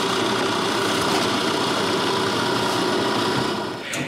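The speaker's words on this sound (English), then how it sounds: "from the back drill a hole using the square hole as a guide" A power drill bores a hole through a wooden button from the back in a woodworking shop. The motor whines loud and continuously at an even pitch and tapers off slightly at the end.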